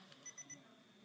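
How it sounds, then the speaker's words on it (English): A flat iron used on hair weaves and wigs gives three short, high electronic beeps in quick succession after its temperature setting is changed, clean and fairly faint over a quiet room hum. "I'll change it and it'll beep and be like, okay"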